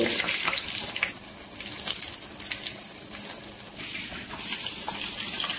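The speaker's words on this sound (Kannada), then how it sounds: "ಆ ಎಣ್ಣೆಯಲ್ಲಿ ಈ ಥರ ಒಂದೊಂದೇ ಬ್ರೆಡ್ನ ರೋಲ್ನ ಬಿಡಬೇಕು." Paneer and vegetable bread rolls dropped one at a time into hot oil, giving a steady, loud sizzling hiss of frying that fills the whole stretch, with no talk over it.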